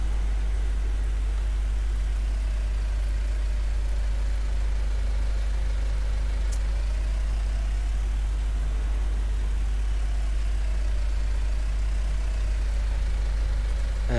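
A tractor engine idles in Farming Simulator 19, a steady, loud low drone with a constant mechanical hum that holds unchanged throughout, with no voices over it.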